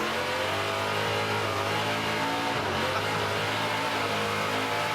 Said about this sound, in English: Listen to him work that gas.